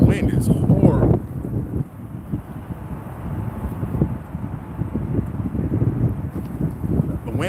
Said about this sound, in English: Yo, the wind is horrible.